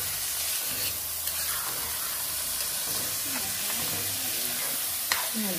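Rice sizzles in a hot pan, a constant hiss with occasional soft scrapes of stirring.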